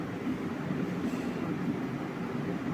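A train runs at Mayyanad village railway station in Kerala, a steady broadband rumble and rush holding at even loudness throughout, moderately close, with no voices.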